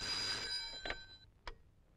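A telephone bell rings in a short burst, then two sharp knocks follow as the call is answered; it is fairly quiet, with no voices.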